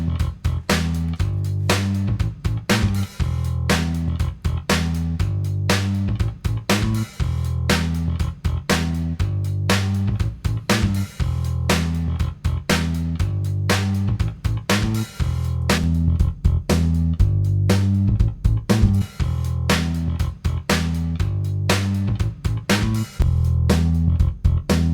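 A bass and drum track, equalised to sound thinner through a Neve 1081 emulation EQ plugin, plays a steady, punchy groove with sharp snare hits and a continuous bass line, loud and without any voice.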